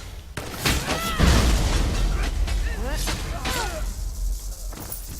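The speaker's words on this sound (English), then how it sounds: "That explosion effect is something that's on my armor." An armor-triggered Death's Wind explosion effect in Elder Scrolls Online goes off as a burst of booming, shattering impact with whooshing sweeps, amid busy game combat sounds and a voice talking over it.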